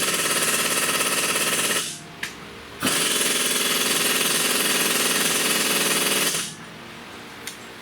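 An air impact wrench hammers loose tight rear shock bolts on a 2016 Toyota Highlander, two long loud rattling bursts of about two and four seconds with brief taps between, close and dominant.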